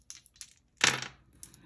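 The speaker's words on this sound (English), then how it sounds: "let's roll the dice" Dice rolled onto a board during a family savings-challenge board game: one short, close clatter and tumble of the dice, with a few faint light clicks before and after.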